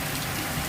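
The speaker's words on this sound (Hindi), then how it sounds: "बहुत बारिश हो रहा है दोस्तों, देख सकते हो आप लोग।" Heavy rain pours down outdoors in a dense, constant hiss with no gaps, close and loud throughout.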